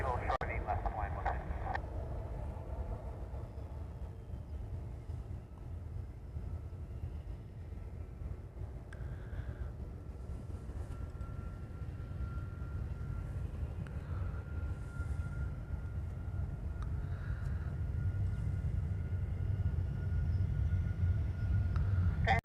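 Airliners taxi and take off at Honolulu airport, heard as a constant low engine rumble and roar with occasional faint tones, while radio voices talk over it.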